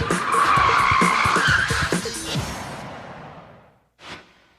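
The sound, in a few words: car skidding through a forward handbrake J-turn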